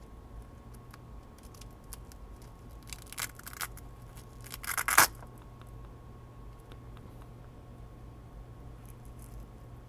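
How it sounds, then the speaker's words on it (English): A velcro adjustment strap on the back of a Schrade blade combo set is peeled open in a brief rasping tear, quiet and close, after a few faint handling clicks. "this is Velcro in the back, and it has a adjustment ability. So all you have to do is just peel this"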